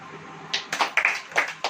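A church congregation claps hands in a few scattered, sharp bursts, irregular and moderately close, with quiet gaps between the claps.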